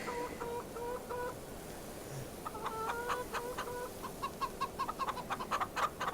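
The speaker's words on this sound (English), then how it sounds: "They're clucking away, happy as Larry." Chickens cluck in Farm Simulator 25, a run of quick clipped clucks in groups that grows busier toward the end, heard close over a soft steady background hum.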